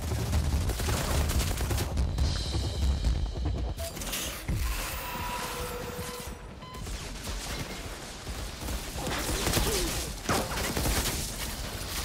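Enemies in the co-op shooter Outriders fire in dense, continuous bursts of rapid gunfire that hold a steady, fairly loud level for the whole stretch, with no voices over it.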